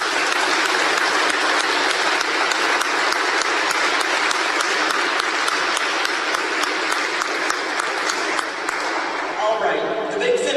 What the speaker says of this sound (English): Another round of applause for Gary.